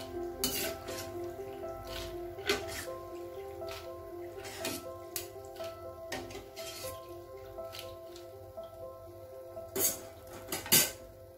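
Rava semolina chips frying in oil in a pan, a steady low sizzle broken by scattered clinks and scrapes of a utensil against the pan, up close.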